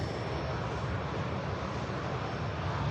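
A Ryanair jet departing Manchester Airport for Tenerife, a steady, fairly loud rumbling engine roar sustained without a break.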